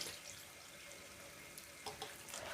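A glass of water is poured into a pot of green curry with fish balls and winter melon, a faint, soft trickle and splash over low kitchen background.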